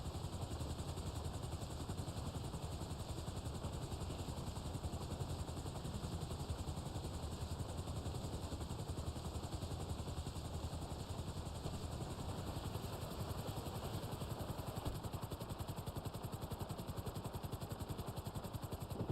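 A helicopter in the video game GTA Online gives a steady, dense rotor and engine drone that holds constant and loud throughout, with no speech.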